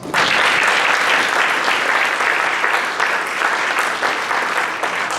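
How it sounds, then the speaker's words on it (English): Loud, sustained applause from an audience at a Waco Rotary gathering welcoming two visiting schools, a dense steady clatter of many hands lasting throughout without pause. "if you would give them a round of applause"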